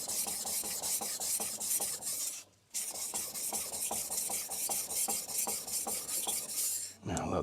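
Copper Damascus bunka-style chef knife drawn over an Altstone Fukami 1000 whetstone, making a steady, close rasping scrape in quick repeated strokes, with one brief pause partway through.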